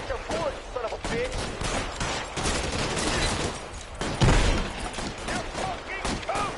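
Rapid gunfire from a shootout in the video game L.A. Noire, with bursts of shots and thuds crackling throughout, mixed with shouted voices from the game.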